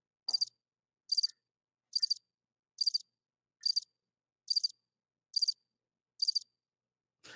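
Crickets chirping in a clean, regular pattern: eight evenly spaced short bursts of high trills, each about a second apart, isolated against silence.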